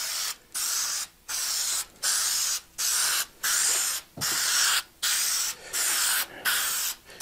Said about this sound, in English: Let me have the adhesive. Let me give it one very light coat over the top of it.